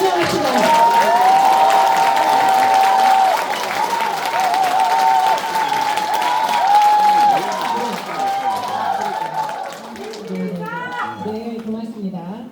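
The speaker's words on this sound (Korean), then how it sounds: "지금처럼 큰 박수와 환호성 부탁드립니다." An audience at a Democratic Party member-education lecture in Cheongju welcomes a senior council member with loud, sustained applause and cheering, while a voice speaks over a PA throughout and talk carries on as the clapping fades.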